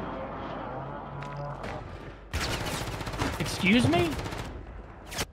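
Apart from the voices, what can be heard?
gunshots in Call of Duty video game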